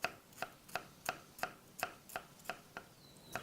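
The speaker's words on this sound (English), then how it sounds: "you want to just really kind of finely slice them" Kitchen knife finely slicing shallots on a cutting board for a Thai beef salad, about ten crisp, evenly paced taps close by, fairly quiet and alone.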